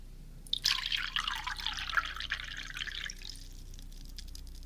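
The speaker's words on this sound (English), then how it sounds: "I see that your hot dog water glass is empty. Let me refill that for you." Water is poured from a container into a drinking glass, a soft close splashing and trickling that runs for about two and a half seconds, then tails off into quiet.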